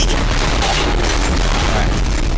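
An explosion in the video game Uncharted: Drake's Fortune gives a loud, dense, continuous rumbling blast with deep booming low end lasting throughout.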